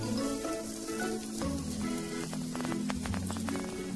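Butter-basted tandoori chicken tikka sizzling over a charcoal barbecue, a dense, continuous crackle and hiss with scattered pops, close and steady throughout.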